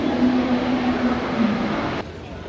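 A metro train rumbles through the Suvarnabhumi airport station in Bangkok, a steady, moderately loud rolling drone that drops to a quieter hum partway through.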